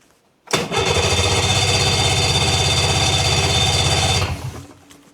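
A snowmobile engine cranks and catches, running at a loud, steady idle close by for several seconds before cutting off abruptly.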